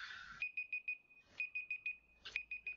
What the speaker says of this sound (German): So, das ist mein toller Timer.